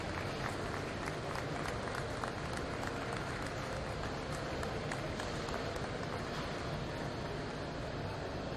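An audience at a timber construction award ceremony applauds in a steady, faint patter of clapping that fills the room without pause.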